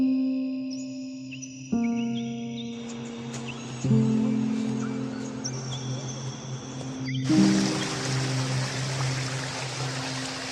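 A rushing stream near the Ninoskhevi waterfall in Lagodekhi, with broadband water noise that swells and grows louder partway through, heard alongside sustained tonal music and no speech.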